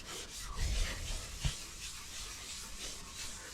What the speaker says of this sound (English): I'm just going to use a red Scotch-Brite. Just kind of go over this thing just to dull it down a little bit.